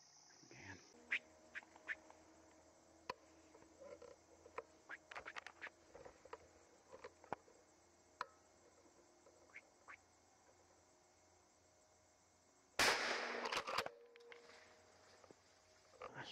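Squirrel squawking from a tree during a morning squirrel hunt in warm weather: scattered short, faint chattering calls over quiet woodland ambience, with one brief louder rustling burst near the end.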